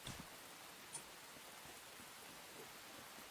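Rain in the video game Enshrouded falls as a soft, steady hiss of drops spread evenly across the moment, faint and continuous with a couple of slightly closer patters.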